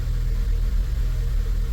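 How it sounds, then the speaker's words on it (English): A VW Golf V Plus with a 1.4 TSI engine settles back to a steady low idle after being revved. The engine was recently repaired and has a slight shake. A continuous close rumble with no voices. "Let's give it some revs. Oh yes, sounds normal."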